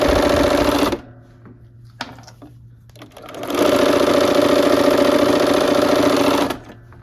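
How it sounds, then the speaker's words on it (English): A sewing machine stitches quilt pieces in two close, loud steady runs, a short burst then a longer stretch of whirring, separated by a quiet pause with small handling clicks. "Let's go ahead and sew this on."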